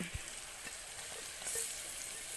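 Tomato and coriander leaves frying with onions in a pan for ulli sambar, giving a steady soft sizzle with a few faint clinks of stirring, close by and without any talk.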